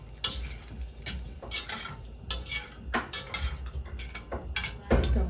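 A utensil scrapes and clinks against a pot while cauliflower in garlic sauce is stirred, a steady run of soft metallic knocks and scrapes with a low bubbling underneath and no voices.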